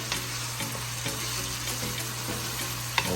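Ackee cooks in a pan over medium heat, sizzling and crackling steadily with light stirring clicks and a faint constant hum underneath, close and uninterrupted by voices.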